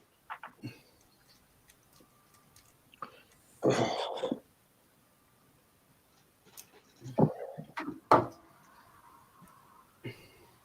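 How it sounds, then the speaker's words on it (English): A few short coughs and throat-clearing bursts in a quiet room, scattered with small clicks and pauses between them. "I'm just going to have a cough."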